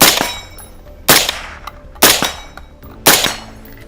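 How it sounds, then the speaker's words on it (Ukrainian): Four sharp, loud gunshots from a sand-covered UAR-15 rifle ring out about one second apart at a military range, each with a brief metallic ring trailing off. "Ну Давайте пробувати. Стріляю."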